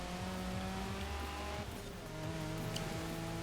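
Engine roar and tire noise from a rear-wheel-drive car sliding through a handbrake drift in Forza Horizon 4, steady and loud throughout with a brief dip midway and no talk.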